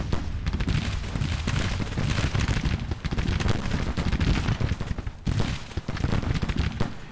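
American Civil War artillery and musket fire in a strategy battle game, a dense continuous barrage of overlapping booms and cracks, loud and steady throughout with brief dips in intensity.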